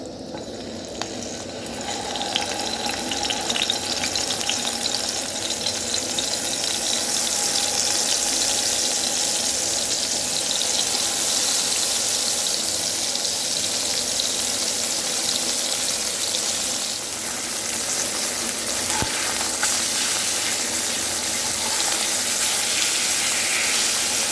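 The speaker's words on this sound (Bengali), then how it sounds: "বন্ধুরা, আমাদের তেল গরম হয়ে গেছে। এবার মাছগুলোকে দিয়ে দেবো ভেজে নেওয়ার জন্য।" Rohu fish pieces fry in hot oil for a potato curry, giving a loud, steady, close sizzle and crackle that lasts throughout with no talking.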